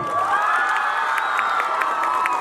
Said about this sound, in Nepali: म त भाउजूको लागि एकचोटि जोरदार ताली